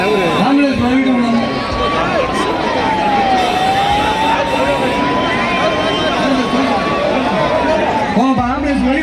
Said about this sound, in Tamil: ஆம்புலன்ஸ் போட்டு வழி விடுங்க